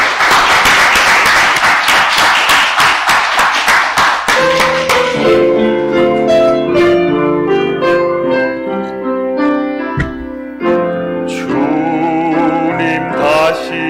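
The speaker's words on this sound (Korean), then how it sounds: "박수하겠습니다." A congregation at a Sunday church service claps rhythmically for a few seconds. The clapping gives way to sustained organ or keyboard music that carries on loudly.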